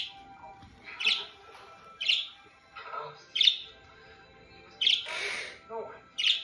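Pet quaker parrots and parakeets give sharp, loud chirps and squawks in a repeated series of bursts, with a person talking between the calls.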